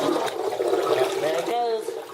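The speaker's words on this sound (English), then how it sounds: "Flush the toilet for all the toilet fans." An EPC toilet flushes in a hotel bathroom at the Hampton Inn & Suites in Pigeon Forge, Tennessee: a steady, close rushing swirl of water that runs throughout, with people talking over it.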